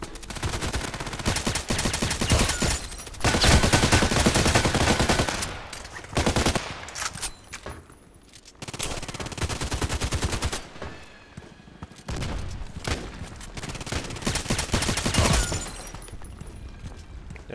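Suppressed gunfire rattles in the online shooter Contract Wars, with loud, dense bursts of rapid shots broken by brief pauses across the whole stretch, no one talking.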